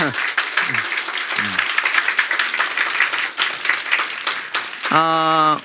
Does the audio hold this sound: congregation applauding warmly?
yes